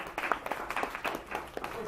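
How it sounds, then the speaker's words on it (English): Kids at a drama summer camp give a round of applause, a handful of uneven, close claps in an irregular flurry with voices mixed in. "Give them applause."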